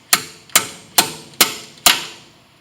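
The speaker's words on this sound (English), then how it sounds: "taking my slide hammer and being careful" A slide hammer threaded into a gearbox cap on a LeBlond manual lathe strikes five sharp metallic blows at a steady rhythm, each ringing briefly before the next, loud and close with no talk.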